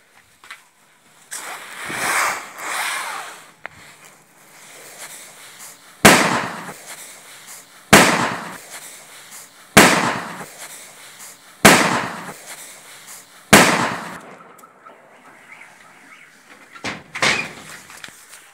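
Fireworks set off from a balcony burst in a series of about six loud, close booms spaced roughly two seconds apart, each trailing into a crackling decay, with no talking.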